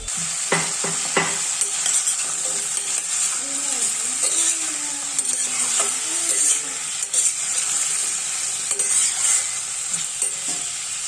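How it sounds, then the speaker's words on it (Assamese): Potatoes and jackfruit are stirred and fried in a pan, a continuous sizzle broken by scraping spatula strokes and occasional knocks, with a voice speaking over it. "মই ইয়াতে আলু আৰু কঁঠালখিনি দি এইখিনি অকণমান সময় লৰাই লৰাই ভাজি ল'ম।"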